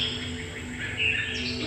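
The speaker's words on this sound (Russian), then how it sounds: "Вот тоже то что-то прикольное, как птички поют" Birds chirp and sing in a park garden with wildlife, a steady stream of tweets and calls heard alone at moderate distance without talk.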